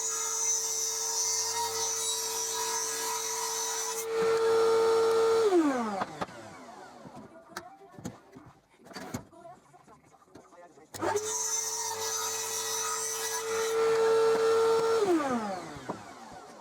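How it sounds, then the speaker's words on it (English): Miter saw trimming the ends of a plywood end-grain tabletop made from offcuts: two close, loud cuts, each a motor whine spinning up, biting through the wood and winding down, separated by handling clatter. "I used the miter saw to clean up the ends."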